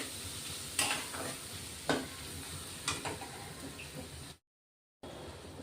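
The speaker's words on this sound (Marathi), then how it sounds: "आता मस्त तेल सुटेपर्यंत आपण हा मसाला परतून घेणार आहे।" Tomato masala is sautéed in oil in a pan: a soft continuous sizzle broken by four sharp stirring scrapes about a second apart, then a brief dropout.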